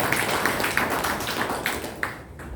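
An audience applauding at a book launch event, dense rapid claps blending into a sustained wash that tapers off near the end, with no voice over it.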